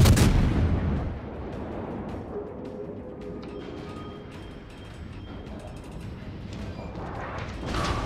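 A warship's heavy guns boom in World of Warships. One loud, deep blast opens, mechanical creaking and turret whirring carry on after it, and another swelling roar builds at the end.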